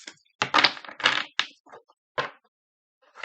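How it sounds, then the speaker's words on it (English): Oracle cards from a Magical Dimensions deck by LightStar are shuffled, giving several short, crisp bursts of riffling and slapping close by, separated by brief pauses, with no talking. "give it 3 shuffles"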